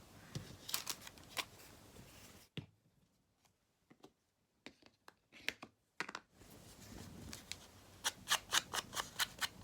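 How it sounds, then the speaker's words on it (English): Scissors snip through paper in quick bursts of crisp cuts, with a quiet pause in the middle before a rapid run of snips at the end. "generally the idea is that you move the paper rather than the scissors"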